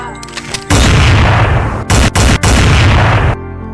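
A pistol is fired in a quick series of loud, close blasts: one long booming report followed by several short sharp bursts, with rumbling echo between them.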